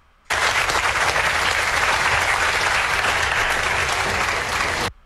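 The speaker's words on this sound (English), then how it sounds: "Give them a round of applause for Natalie." Loud, dense studio audience applause on a daytime talk show, a full steady wash of clapping that starts abruptly and cuts off cleanly after about four and a half seconds.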